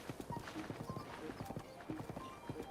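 Horse hooves clip-clopping at a steady walking rhythm near a stable in the video game The Legend of Zelda: Breath of the Wild, with a soft whinny, close and clear over faint game ambience.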